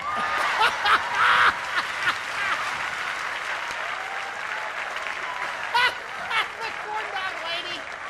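A gospel concert audience breaks into applause, steady clapping filling the room with a few louder bursts and some chuckles, while a voice talks over it.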